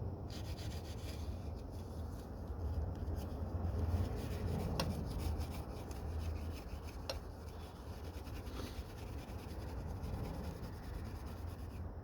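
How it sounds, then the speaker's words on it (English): Scraping crud off BMW E36 cylinder heads, a steady rasping rub of a tool working over metal, fairly close and continuous with small scratchy accents. "I'm gonna do my best to get all this crud off of the cylinder heads"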